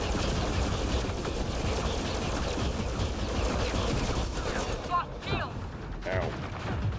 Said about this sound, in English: that cover is definitely not going to withstand that missile barrage